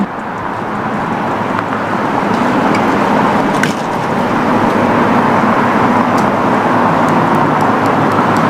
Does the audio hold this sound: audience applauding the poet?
no